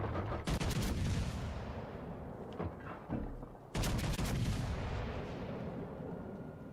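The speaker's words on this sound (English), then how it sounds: "Let's shoot a HE salvo and see what happens." Warship guns firing a high-explosive salvo in World of Warships: Legends, two heavy booming volleys a few seconds apart, each a cluster of sharp reports followed by a long rumbling decay.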